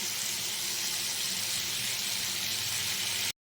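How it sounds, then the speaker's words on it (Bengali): Water poured into a pan of frying cauliflower and potato curry, a loud continuous rushing hiss close up that stops abruptly at the end, no voices. "এবার আমি এর মধ্যে জল দিয়ে দেবো।"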